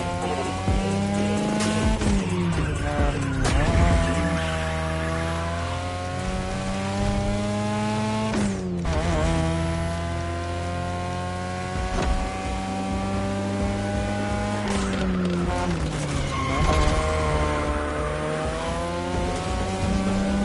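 A 3rd Gen 2002 Mazda RX-7 with a rotary engine in The Crew Motorfest, high-pitched engine wail rising and falling through gear changes while tires squeal in repeated drifting skids, loud and close throughout.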